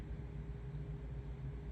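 A furnace igniting: a low, steady roar with a faint hum running through it, constant and unbroken like a burner that has just lit.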